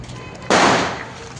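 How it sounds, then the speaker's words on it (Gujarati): A single firecracker bursts with a sharp, loud bang that decays quickly, set off outdoors during Diwali festivities in a village. "ફટાકડો ફોડે છે"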